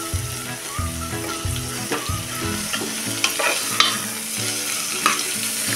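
Cauliflower sautés with onions in a pan for masala rice, a steady sizzle broken by repeated scraping stirs of a spoon against the pan, close and clear, with no talking.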